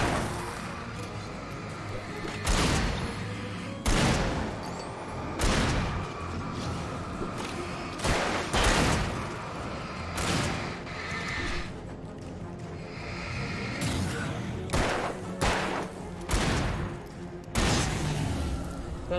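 Repeated loud gunshots in the game Alan Wake, single sharp cracks and short bursts spaced irregularly over a low background ambience.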